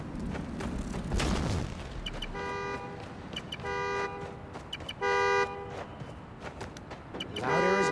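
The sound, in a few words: car horn honking in Spider-Man Miles Morales video game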